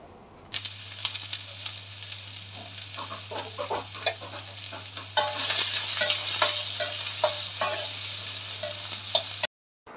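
Shredded cabbage with ginger stir-fries for thoran in a wok, giving a steady close sizzle with busy scraping and clatter of stirring that grows louder midway, then cuts off abruptly.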